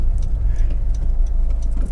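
Honda Civic 1.6 i-DTEC EX diesel five-door on a road test, its engine and road noise a steady, loud low rumble heard from inside the car with faint ticking on top and no talk.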